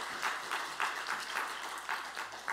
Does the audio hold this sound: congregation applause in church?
yes